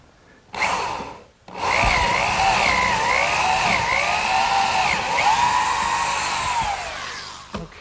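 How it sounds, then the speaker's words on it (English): A power drill bores dowel holes into a wooden garden bench joint with a 3/8 inch brad point bit, a loud whirring drone that rises and wavers in pitch over several seconds after a brief opening burst. "Now for those dowels I'm going to use a 3/8 inch brad point bit"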